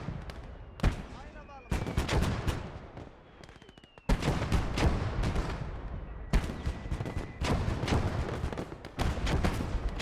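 Rapid bursts of 20 mm anti-aircraft cannon fire in a WWII real-time strategy game, repeating in dense volleys across the whole stretch amid other battlefield gunfire, loud and close.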